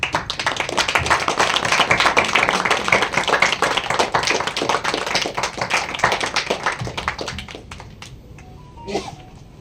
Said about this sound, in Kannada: ಎದ್ದು ನಿಂತ್ಕೊಂಡು ನಿಮಗೊಂದು ಚಪ್ಪಾಳೆ ಕೊಡೋಕ್ಕೆ ಇಷ್ಟಪಡ್ತೀನಿ